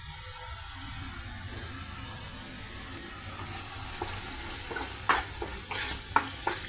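Tomato paste fries with chana masala in a pan, a soft continuous sizzle with faint watery bubbling and a few light spoon clicks toward the end, without any talking.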